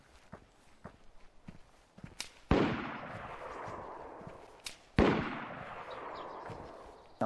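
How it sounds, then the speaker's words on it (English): Two loud, booming shotgun blasts from the video game DayZ, each with a long echoing decay, heard over faint footsteps and small shuffling sounds. "Sound like a shotgun."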